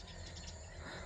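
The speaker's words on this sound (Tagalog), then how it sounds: "naririnig niyo yung mga huni ng ibon na nakakatuwa" Faint birds chirping in the distance on a farm over a steady hum of insects and low background rumble, no voices.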